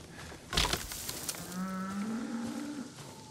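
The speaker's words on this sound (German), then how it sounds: "Das sind Kühe." A cow lows once in the video game Ghost of Tsushima: a low, drawn-out moo, close and moderately loud, following a brief sharp noise burst, over a steady outdoor background.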